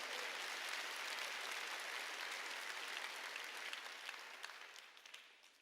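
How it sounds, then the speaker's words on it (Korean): A church congregation claps steadily in sustained applause during a sermon, dense and even, fading slightly toward the end. "우리 할 수 있다고 생각하는 사람만 박수 쳐야게."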